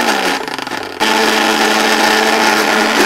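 Blender pulsing tough-fibred spinach for palak paneer, a short choppy whir that stalls and then surges into a loud steady high-pitched motor roar, close up.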